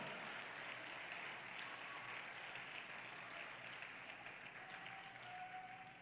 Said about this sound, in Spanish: tus aplausos me aturden